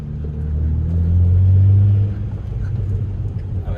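A BMW E90's engine idles steadily with a low, even rumble that swells slightly in the middle of the stretch and then settles back, close by and alone.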